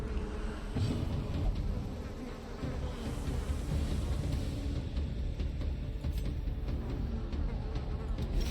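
A dense, steady swarm of buzzing insects drones from a hive in a dark dungeon-crawler game, loud and continuous with a low rumble beneath it and no talking.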